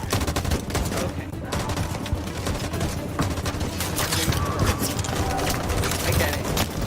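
Gunfire in Detroit: Become Human, a sustained fusillade of rapid shots and bursts, loud and close, with some faint talk mixed into the continuous barrage.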